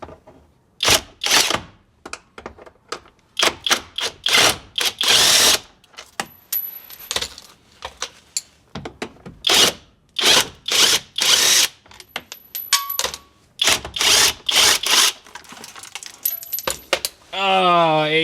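A power tool runs in repeated short bursts, whirring on and off at close range while removing bolts under a 2022 Jeep Wrangler, with brief ratcheting clicks between runs.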